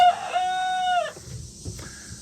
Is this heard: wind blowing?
no